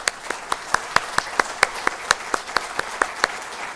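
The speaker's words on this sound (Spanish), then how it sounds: "Quisiera también pedirle un aplauso a los compañeros y compañeras que participaron." Applause at a union seminar on sector-wide bargaining in Chile: a thin background patter of clapping with one sharper, regular clap standing out near the listener, about four per second, moderately loud and steady throughout.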